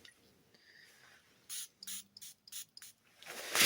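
Maison Tahité Cacao2 fragrance sprayed onto arms: a handful of quick, close atomizer spritzes in a broken rhythm, faint at first and then a louder burst at the end, with no talking.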